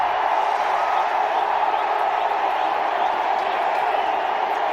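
Large cricket crowd at a Test match in Mohali, India against Pakistan, a continuous roaring wash of cheering just after a wicket falls, loud and steady throughout.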